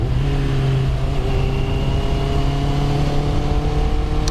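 A Honda CBR650R motorcycle engine drones loudly nearby, holding a steady revved pitch with a constant buzzing hum throughout.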